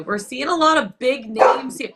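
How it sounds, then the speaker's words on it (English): A dog barks a couple of times close by, its yips mixed in with someone talking over it. "Hey, sorry, that was my dog."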